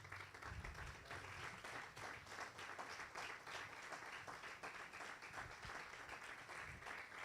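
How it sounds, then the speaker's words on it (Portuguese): Applause from a church congregation during a Thursday worship service, a steady dense patter of many hands clapping at a distance, faint and continuous throughout with no voices. "Você pode aplaudir o Senhor?"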